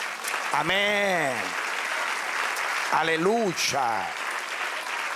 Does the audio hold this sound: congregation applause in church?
yes